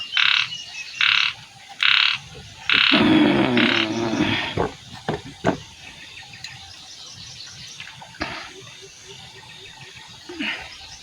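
Frogs croak in a rice field at night, with loud repeated bursts early on followed by sparser, fainter calls against a quiet rural background.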